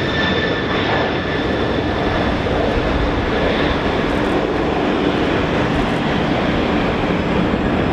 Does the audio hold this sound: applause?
no